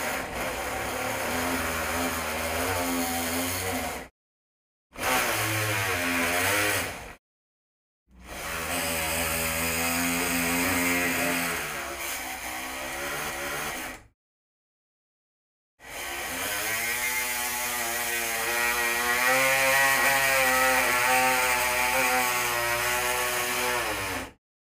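Surgical bone saw cutting through a distal femur during a biplanar closed-wedge osteotomy, a loud continuous high whine in several long bursts separated by short pauses, with the pitch wavering as the blade works through the bone.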